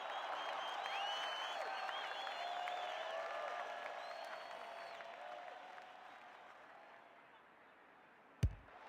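A crowd at a women's Australian rules football match applauds and cheers, a broad sustained roar of clapping and voices that fades toward the end before a sharp thud.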